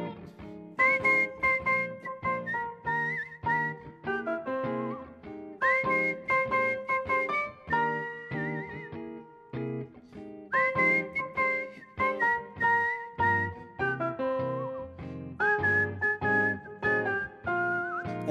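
Whistled melody carried over music at a closing-night event, loud and steady, phrases rising and holding in repeated bursts with brief gaps, without talk.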